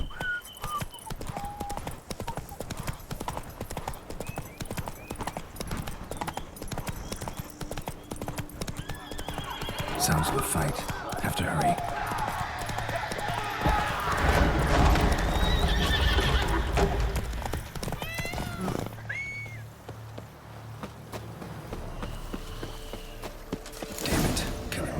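Horse hooves clip-clop at a galloping pace with whinnies in a Witcher video game, the mount Roach running under a man's spoken lines and game music.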